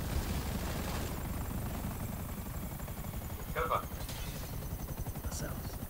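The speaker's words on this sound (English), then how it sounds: "Is a helicopter gonna land on me here?" Helicopter in GTA V Online, a steady loud low rotor drone running through the whole stretch, with a few brief sharp bursts of gunfire-like noise on top and a voice talking over it.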